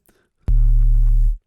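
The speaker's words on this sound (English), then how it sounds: "All it is just that one granular sample" A Phase Plant synth patch built from a single granular sample run through a sine wave and heavily distorted, heard as one loud, thick, buzzing low note that starts abruptly, holds steady for about a second, then cuts off.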